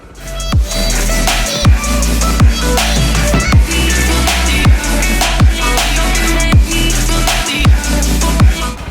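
A motorbike engine idles steadily at close range beside a roadside ultramarathon course in Sri Lanka, a continuous low rumble with faint regular pulses running through the whole stretch and no talking.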